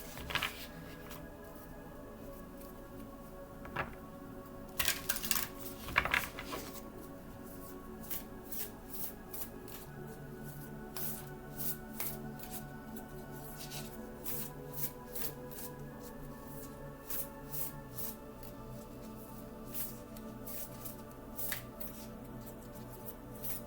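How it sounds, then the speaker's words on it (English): Oracle cards being shuffled repeatedly, with quick riffling bursts and soft clicks recurring throughout, fairly quiet and close by. "I hope you could hear me over all the shuffling."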